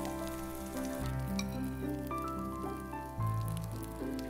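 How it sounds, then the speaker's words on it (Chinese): Zucchini rings and egg batter fry over low heat in an oiled pan, a soft, even sizzle that runs continuously under background music with no talking. "放入西葫芦圈，小火把锅微热后放入蛋糊"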